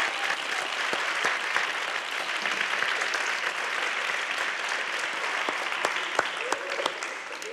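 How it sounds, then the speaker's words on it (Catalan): Loud, sustained applause from a studio audience greeting the guests' companions at the start of a Catalan word-game show, a dense, even patter of many hands clapping for the whole stretch. "Un fort aplaudiment, per favor"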